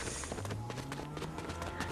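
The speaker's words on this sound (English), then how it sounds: "I hear footsteps" Quick, running footsteps in Fortnite, a fast, even patter of soft taps over a steady background hum, fairly quiet and continuous.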